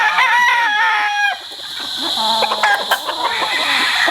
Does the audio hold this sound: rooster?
yes